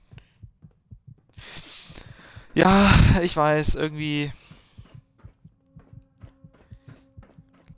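Quick, regular low heartbeat thuds from Fallout 4 continue throughout, briefly covered by a loud stretch of talking before the throbbing returns alone.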